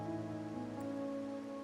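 Steady rain falls in the video game Wuthering Waves, a dense, even hiss of drops on surfaces with a soft tonal music bed underneath, continuous and close throughout.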